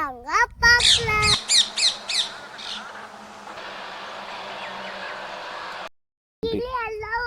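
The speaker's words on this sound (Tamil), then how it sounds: "கிளி எல்லாம் வந்து பாருங்க" Parrots at a temple give a run of loud, harsh squawks near the start, then a steady noisy background, a brief silence, and more chirpy bird calls at the end.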